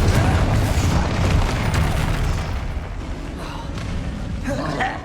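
Bombarda and Confringo spell blasts in the video game Hogwarts Legacy: a dense, loud run of booming explosions and crackling bursts that rumbles on throughout, easing slightly partway through and then swelling again.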